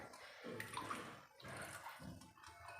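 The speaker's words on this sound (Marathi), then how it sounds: "पाणी घालून घेते दह्याच्या वाटीत आणि छान मिक्स करून घेऊया" Water poured into a bowl of curd for making jowar ambil buttermilk, a steady splashing, trickling pour that runs close and continuous with brief dips, no talk over it.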